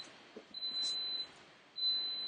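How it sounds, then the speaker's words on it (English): Two long, high-pitched electronic beeps from an Instant Pot Ultra pressure cooker timer, separated by a short pause, over faint room noise. "that beeping right there is my Ultra saying, hey, your cooking time is up"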